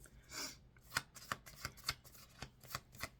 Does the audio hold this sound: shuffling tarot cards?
yes